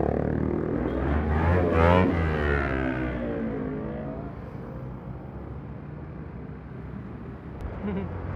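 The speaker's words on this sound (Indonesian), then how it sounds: "Aduh, angkot nih mau berhenti di sini." An angkot minibus pulling up to stop on a street, its engine note loud at first and then easing down into a lower, steadier rumble, with a faint voice early on.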